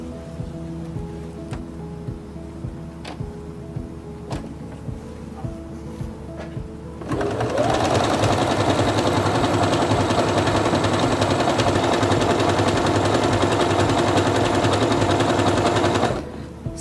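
A Singer Quantum Stylist 9960 sewing machine runs a fast, steady stitching burr for about nine seconds as it sews an elongated decorative pattern, stopping abruptly, after a quieter stretch of faint ticking and hum.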